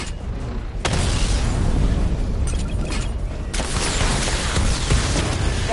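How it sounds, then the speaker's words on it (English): A rapid barrage of missile explosions from the Batmobile in Batman: Arkham Knight: dense, continuous booms and rumbling blasts that fill the whole stretch, with a sharp onset of a new volley partway through, loud and up close. "Missile barrage level 2 ready."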